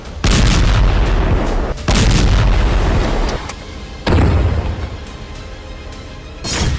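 Gunfire from inside Al-Quds hospital in Gaza during fighting: loud, close, booming bursts of heavy fire in several sustained blasts, separated by short, quieter gaps.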